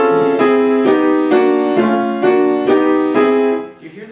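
A perfectly even chord is played repeatedly, about eight evenly spaced sustained attacks, clear and close with rich harmonics, each chord shifting smoothly into the next before ringing off at the end.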